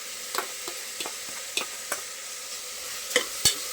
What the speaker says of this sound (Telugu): బాగా పచ్చివాసన పోయేంత వరకు బాగా ఫ్రై చేసుకున్నాను మసాలా అంతా బాగా వేగిపోయింది